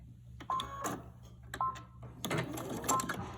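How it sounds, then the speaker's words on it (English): A sewing machine stitches a fabric face mask in short bursts, with quiet mechanical whirring runs separated by pauses and small clicks of the needle and handwheel, close but faint. "So I'm going to give it like about 3 stitches,"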